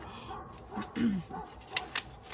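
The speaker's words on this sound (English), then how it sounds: "Is my dog just barking so much?" A few short dog barks or yips, fairly close, in quick bursts over a quiet background.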